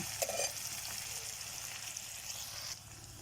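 Onion frying in a pan for a winter vegetable dish, a steady soft sizzle running throughout, with a few brief louder crackles near the start.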